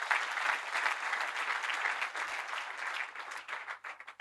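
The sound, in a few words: church congregation applauding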